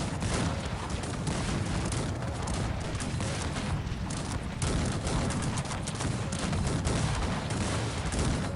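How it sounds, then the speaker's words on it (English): Massed musket and cannon fire in a large historical battle in the strategy game Cossacks 3, a dense, continuous crackling fusillade with dull booms mixed in, loud and unbroken throughout. "Fire the guns!"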